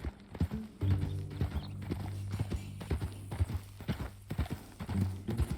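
Horse hooves clip-clopping in Red Dead Redemption 2, an uneven run of close hoof strikes over a low steady hum, with a brief snort or whinny partway through.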